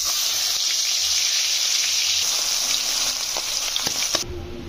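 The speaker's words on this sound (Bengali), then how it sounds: "এখন মাছগুলো ভেজে নেব।" Fish fry in hot oil with a loud, steady, close sizzle and faint crackles throughout, the hiss cutting off sharply near the end.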